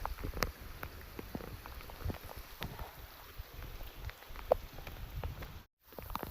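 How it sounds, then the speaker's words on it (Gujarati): Faint, steady patter of rain falls on a rooftop terrace in a village, with scattered drips and taps over a soft background hiss. "આપણે આવી ગયા ચાલુ વરસાદમાં ધાબા ઉપર"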